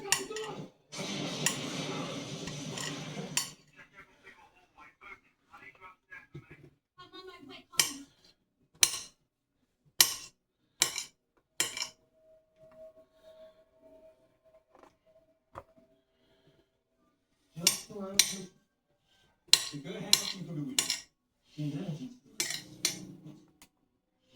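Onions being chopped into small pieces on a cutting board in a home kitchen, sharp irregular knife knocks in short bursts separated by quiet pauses, close by.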